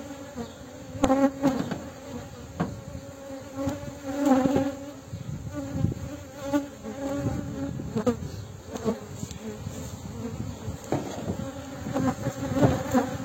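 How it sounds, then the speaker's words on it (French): Honey bees buzz around an open beehive during a varroa mite check, a close, continuous drone that swells and fades as individual bees pass near, with no talking. "les abeilles qui sont à l'intérieur, je vais les reposer sur le toit de la ruche"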